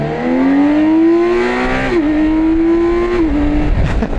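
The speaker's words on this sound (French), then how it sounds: "Je vais vous faire un petit 0 à 100 ici." A BMW K 1600 GT six-cylinder motorcycle accelerates hard from a standstill toward 100 km/h, its loud, smooth engine note climbing steadily with brief dips at gear changes.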